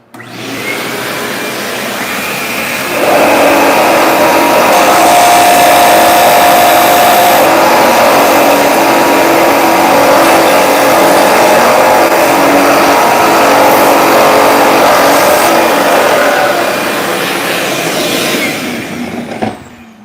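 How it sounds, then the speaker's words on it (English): A vacuum is switched on to catch carbon dust while a Hangar 9 OV10 Bronco RC model is sanded in a workshop. Its loud, steady whining roar starts about three seconds in, runs alone for roughly fourteen seconds, then winds down near the end. "Sorry guys for the noise. We got to turn the vacuum on."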